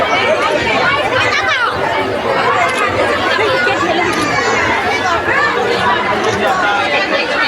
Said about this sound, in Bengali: এই জন্য এত প্রচণ্ড ভিড় হয়েছে।